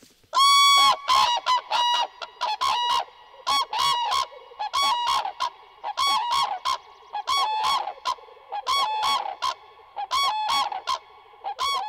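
Loud, repeated bean goose honks in a ragged series, several birds calling over one another close by in a mire, with brief gaps between bursts.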